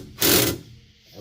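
Short single burst of a power tool tightening a plastic bracket on an Ezgo 36v Navitas golf cart controller install, a sharp whirring hit lasting about a third of a second, then quiet.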